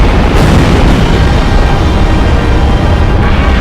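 An enemy facility blowing up in Ace Combat Zero, a continuous loud roaring blast and rumble that fills the whole moment, very close and dense, with no voices.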